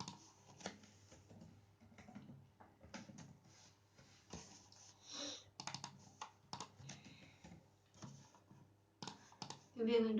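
Rapid, irregular clicks of a computer keyboard as code is typed, soft and close, in uneven bursts with brief pauses and a faint background hum.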